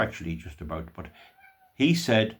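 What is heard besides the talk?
cat meowing, wet cat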